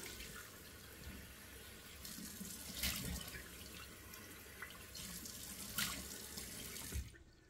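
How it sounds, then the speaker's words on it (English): Cold water runs steadily from a bathroom sink tap, a constant close hiss and splash with a few louder surges, stopping abruptly near the end. "get that cold water running in the sink"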